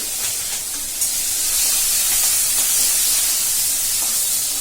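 Onions and green chillies frying in hot oil alongside fish for a sesame fish curry, a loud, continuous close sizzling hiss that stays steady throughout with no voices.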